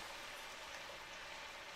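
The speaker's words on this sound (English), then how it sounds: "I'm listening to rain pummeling the ground for hours now." Heavy rain pummels the ground during a typhoon in the visual novel game Robotics;Notes Elite, a steady, dense hiss with no breaks, soft and constant throughout.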